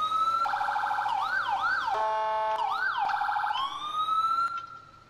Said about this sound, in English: In fact, the sirens changed as well,